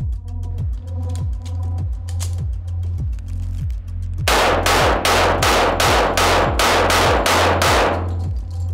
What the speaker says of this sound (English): we went ahead and shot that with 10 rounds of 45 ACP, 230 grain